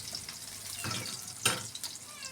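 Garlic fries in a pan, sizzling quietly and steadily, with a couple of louder stirring scrapes breaking through.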